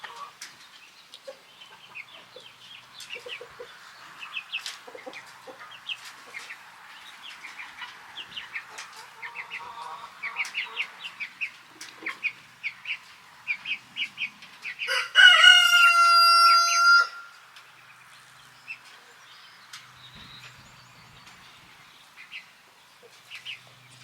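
Domestic hen clucking close by amid busy chicken-coop chatter, with soft repeated clucks throughout and a brief loud squawk or crow partway through.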